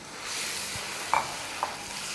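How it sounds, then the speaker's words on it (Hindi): Ground tomatoes fry with spices in a pan, giving a soft continuous sizzle with two brief clinks of a stirring utensil, quiet and close with no voices. "अब टमाटो के साथ अच्छे से भूनेंगे"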